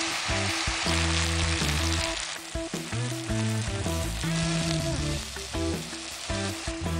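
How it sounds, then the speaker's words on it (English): Carrots, onion and garlic fry together in a pan over high heat, giving a loud, steady sizzle throughout, with background music running underneath. "You want this pan on high heat so these vegetables get ultra, super crispy caramelized"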